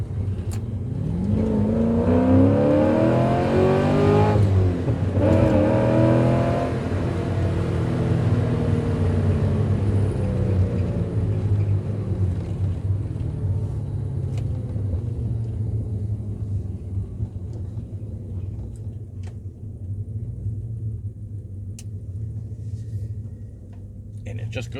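A Porsche 944 with a swapped LS V8 engine revs hard, its deep rumble climbing and then falling away, then settles into a steady, loud idle, heard up close with no talking.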